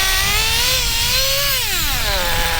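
A nitro-powered Associated TC3 RC car built for drag racing, its small engine screaming loud and close in a steady high-pitched whine that rises and falls in pitch, with no talk over it.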